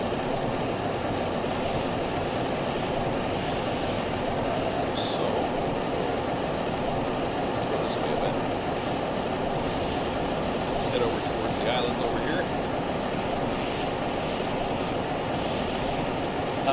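Helicopter in the Stormworks video game, a steady whirring rotor drone with a continuous engine hum, held at even loudness throughout as someone talks intermittently.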